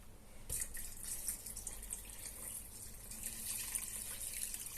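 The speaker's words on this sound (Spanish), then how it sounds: "Le vamos a poner un poquito de agua." A little water poured from a tap into a pot holding beef cheeks, a steady close splashing stream with faint dripping, alone without speech.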